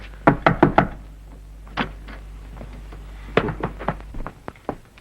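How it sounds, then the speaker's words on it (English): Knuckles rap on a door: a quick, close burst of three or four sharp knocks, then after a pause a second looser run of knocks, with a faint steady hum underneath. "A good idea to knock first."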